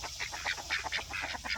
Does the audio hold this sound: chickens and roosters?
yes